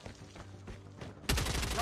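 Gunfire from the Maddox rifle in COD Mobile erupts as a sudden loud, dense burst of shots in the second half, after a quieter stretch of game ambience with low rumbling.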